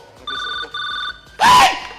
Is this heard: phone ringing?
yes